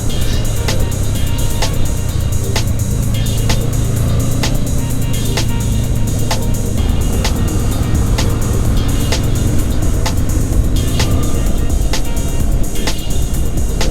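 Motorcycle riding on a group ride in Oregon, a loud continuous engine drone with heavy wind rush throughout, steady and close with no pauses.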